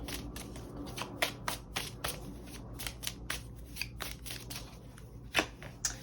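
Tarot cards from a Vice Versa deck being shuffled, a quiet run of crisp riffles and slaps in an uneven rhythm, close by over a faint low hum, with no voices.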